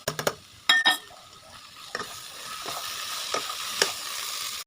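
Potato and fenugreek greens fry in a pan as the water dries off, a few sharp clanks of the spoon at the start, then a steady close sizzle with occasional stirring scrapes, no talking.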